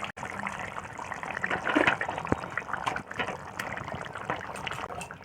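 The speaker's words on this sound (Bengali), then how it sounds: "তো বন্ধুরা দেখুন, গ্রেভিটা তো ফুটে গিয়েছে। এর মধ্যে মাছগুলো দিয়ে দেব।" Fish pieces go into boiling gravy in a pot for a home-style bogo fish curry, giving a close, steady bubbling and sizzling wash of liquid noise with a few sharper splashes and no talking.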